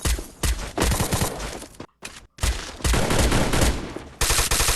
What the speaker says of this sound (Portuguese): O som dos tiros, deixa eu ver.